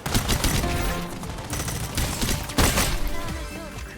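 Rapid gunfire and bursts of shots from a 5v5 team shooter game, Strinova, loud and dense throughout with a sharper blast near the middle, no talk.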